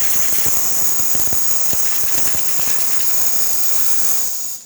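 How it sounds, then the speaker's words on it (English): A steady, loud hiss of steam blowing from a Pasquini Livia 90 heat-exchanger espresso machine, with faint clicks and rattles beneath it before it cuts off. "Excellent steam coming out from this beautiful machine."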